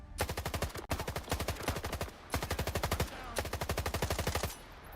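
Rapid automatic gunfire in the S.T.A.L.K.E.R. 2 video game on PS5, several sustained bursts of machine-gun shots with short pauses between them, loud and close.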